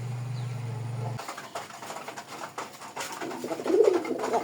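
A pair of Bombay pigeons coos in a loft at Kalampur, Dhamrai, Dhaka, with soft repeated throaty calls close by after a low steady hum fades, swelling slightly toward the end.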